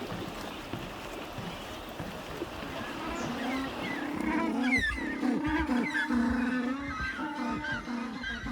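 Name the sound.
African penguins calling on path to Boulder Beach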